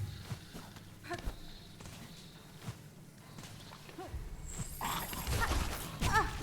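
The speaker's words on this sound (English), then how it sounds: "Stupid dog." A dog creature in the game Hollow Knight: Silksong makes scattered barks and growls among footsteps and game effects, growing louder toward the end, with a voice speaking at times.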